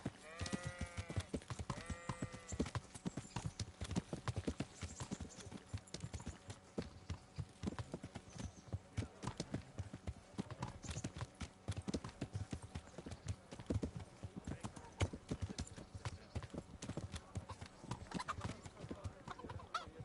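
Steady clip-clop of horse hooves trotting in the video game Kingdom Come: Deliverance, a continuous rhythmic clatter with faint background sounds, moderately quiet throughout.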